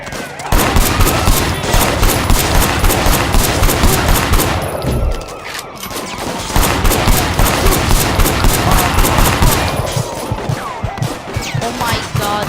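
Rapid automatic gunfire in the video game Sleeping Dogs crackles loudly in sustained bursts, with a brief pause and a crash midway before the firing resumes just as fiercely.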